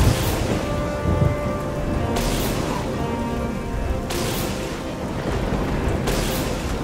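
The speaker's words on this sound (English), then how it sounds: "I can use chain lightning." Chain lightning spell cast in modded Oblivion, a loud sustained crackling electrical roar with broadband bursts recurring every couple of seconds against a dense, noisy game soundscape.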